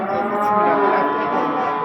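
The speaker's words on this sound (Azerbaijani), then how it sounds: "Bunlar da camışlardır, camışlar." A water buffalo at a livestock market gives one long, loud, close moo that holds steady for nearly two seconds.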